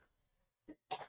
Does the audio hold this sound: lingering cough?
yes